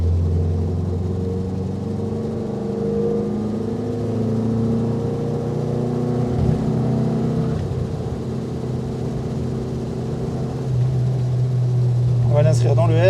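A Renault Dauphine 1093 is driven on a dry road, its engine droning steadily at close range with shifts in pitch as it pulls and revs, while someone talks over it.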